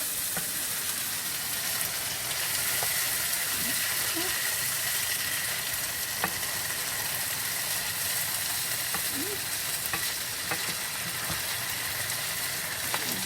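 Butter and chicken sizzle steadily in a pan for chicken marsala, a continuous close frying hiss with occasional sharper pops and crackles throughout, no talking.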